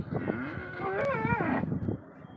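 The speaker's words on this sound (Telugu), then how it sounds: "ఈ ఆవునైతే తీసి కట్టేసి పెట్టినది" A cow moos loudly and close by at a cattle market, one long drawn-out bellowing call that rises and falls, with no talk over it.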